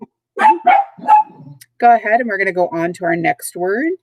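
Several small dogs bark and yip indoors in quick bursts, mixed with and partly under someone speaking nearby.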